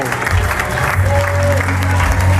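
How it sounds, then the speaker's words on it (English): Applause rises for a group of upcoming leaders at a supervisor training session, a steady wash of clapping over a low droning hum that fills the whole stretch. "Give them a big round of applause."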